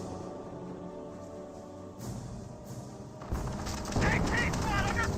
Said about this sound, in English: Going for a strafe and run right here.